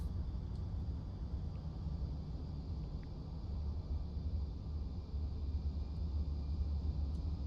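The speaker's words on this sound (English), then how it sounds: "Can hear another plane." A Lufthansa airliner passes in Microsoft Flight Simulator at Birmingham Airport, a steady low engine rumble with a broadband hiss that holds at an even level throughout.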